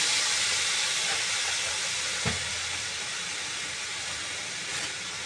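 A steady, moderately loud hiss of food boiling under a lid with only a little water, continuous throughout with a brief tick partway through.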